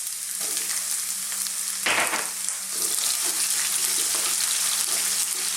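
Ginger and garlic sizzle and fry in a pan of hot oil for a chicken potato curry, a steady close crackle with a brief louder burst as ingredients hit the pan and a low hum underneath.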